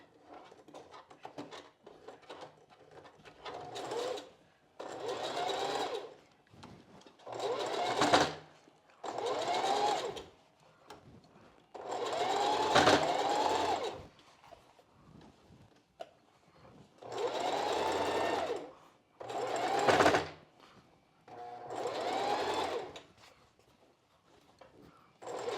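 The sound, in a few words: sewing machine sewing over the boning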